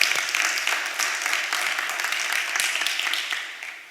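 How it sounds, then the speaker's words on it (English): Audience applause at a celebratory awards event, a dense, steady wash of many hands clapping that holds evenly throughout, close and fairly loud, then begins to thin and fade near the end. "I think you should all give yourselves a round of applause."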